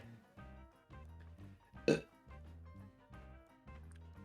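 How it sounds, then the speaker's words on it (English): A single short burp breaks through steady background music, loud and close, with no talking around it. "Oh god, I keep burping."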